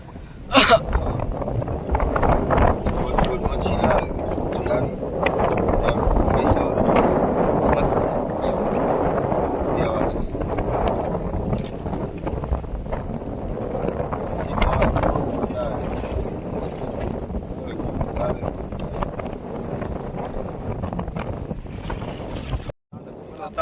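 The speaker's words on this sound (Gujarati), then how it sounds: "પવન ને મોજો તો ફૂલ જ છે." Strong wind roars steadily across the microphone with waves washing at sea on a fishing trip, a continuous rough rush that barely lets up.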